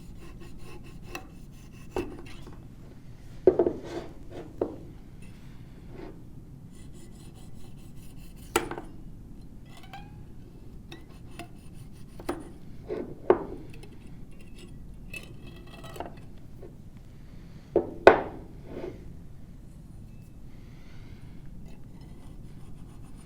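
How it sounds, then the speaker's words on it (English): A wire saw scrapes and rasps through excess clay trimmed from a soil specimen in a lab, giving a quiet series of irregular short scratches and clicks with sharper taps now and then, and no talk. "cut off the excess pieces of the clay using the wire saw"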